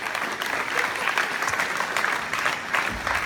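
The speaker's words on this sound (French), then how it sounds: "on peut l'applaudir au passage" An audience at a civic ceremony gives a steady round of applause for the young president of a Chamber of Trades, the dense clapping carrying on evenly from start to finish with no voices over it.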